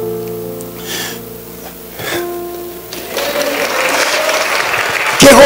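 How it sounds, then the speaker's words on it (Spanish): Clapping from a crowd at a church wedding builds up and grows louder toward the end, with scattered tones and murmuring beforehand. "Cómo aplauden al Señor por ustedes."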